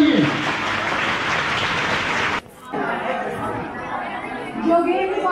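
Applause from an audience at a hospital award ceremony fills the room with dense, steady clapping and crowd chatter, breaking off briefly midway before picking up again under scattered voices.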